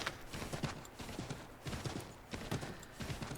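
Horse hooves clip-clop at a steady gallop through a winter landscape in the Assassin's Creed III video game, repeated rhythmic thuds in quick clusters, moderately near and fairly quiet.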